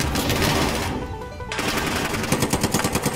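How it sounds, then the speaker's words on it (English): Rapid gunfire from a weapon in Call of Duty: Warzone, loud close bursts with a short lull in the middle, then a quick run of distinct shots near the end. "I literally shot like 4 bullets and my gun started reloading"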